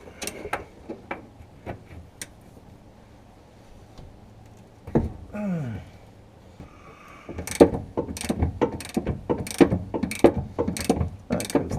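A socket ratchet clicks on a bolt of a 1974 Saab Sonett III parts car, fitted with a 24 mm socket in place of 15/16. Scattered single clicks give way to a fast, loud run of ratchet clicks, with a brief squeak partway through.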